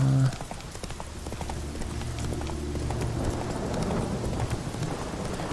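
Roach, the horse in The Witcher 3: Wild Hunt next-gen update, trots along with a steady run of clip-clopping hoofbeats over a soft outdoor ambience.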